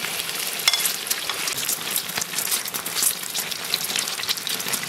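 Eggs and tofu fry in an oil-filled wok, giving a dense, even sizzle with crackling pops that carries on steadily throughout.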